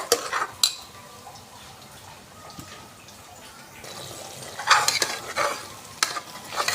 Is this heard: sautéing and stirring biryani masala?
yes